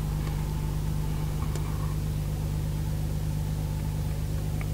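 A Nissan R34 Skyline engine idling after a factory ECU swap, a steady low mechanical hum heard close up, with a faint faster ticking layered over the rumble and no voices.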